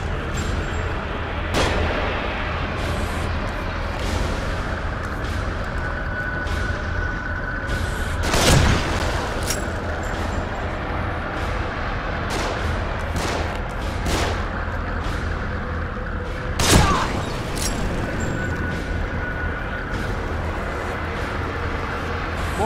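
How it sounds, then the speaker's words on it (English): Heavy gunfire rains down from above in the video game The Evil Within, a steady loud rumble of shots with two big booming impacts standing out. "They're shooting from above."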